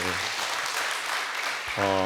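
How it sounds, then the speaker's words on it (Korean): Church congregation at a Friday prayer meeting applauding, a broad wash of clapping that fills the room for about two seconds before a voice comes in near the end. "특별히 박수하시죠"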